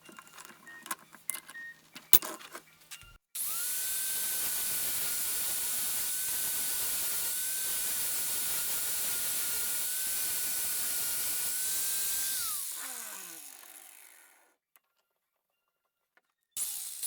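A tiger palm sanding disc smooths nails down to a wooden knife handle: a steady, even grinding hiss for about nine seconds, then winds down and stops, with faint workshop clatter before and after.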